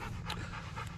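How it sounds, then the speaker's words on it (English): An excited dog pants quickly and close by, a short burst of rapid breaths against a low background hum. "Dogs tend to get excited."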